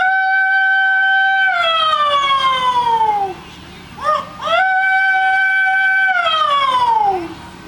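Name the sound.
distress holler imitating a siren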